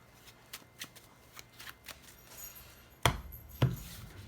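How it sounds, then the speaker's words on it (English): A deck of D/D/D trading cards is shuffled by hand: a run of soft, quick riffles and taps, then two sharper, louder snaps of the cards near the end, close and with no voices. "So I'm gonna shuffle, do a decent shuffle, just so you know, orderly fashion kind of thing."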